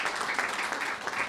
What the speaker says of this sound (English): Big round of applause for Faith in Action East Bay.